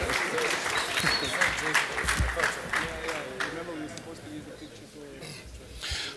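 An audience applauds steadily at a book talk, the clapping moderately loud and continuous, with voices talking over it.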